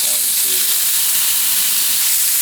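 Chicken stir fry spits in a little olive oil in a hot pan, giving a loud, continuous, steamy sizzle and hiss that stays steady throughout, with no talking.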